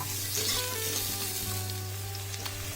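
Potatoes sizzle and crackle steadily in the oil just used for frying fish, a close, continuous light-frying hiss with no talking.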